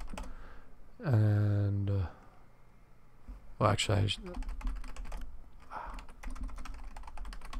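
Computer keyboard keys clatter in quick, uneven bursts during a Windows password reset at the command prompt, with a short spoken word and another loud sound mixed in.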